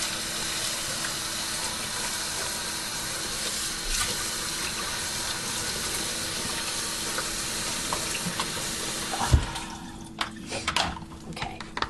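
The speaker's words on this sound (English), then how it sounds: "I'm going to put a little water in the bottom of this pan" Water poured into the bottom of a roasting pan holding a pork loin, a steady splashing wash heard close and continuous, then breaking off into a few scattered knocks and clatters near the end.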